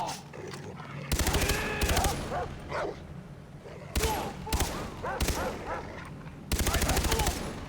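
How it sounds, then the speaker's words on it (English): Bursts of automatic gunfire from a Far Cry 3 shootout, several loud rapid volleys separated by short gaps, with in-game chatter and a dog barking faintly between them. "I'll dump my entire mag at you"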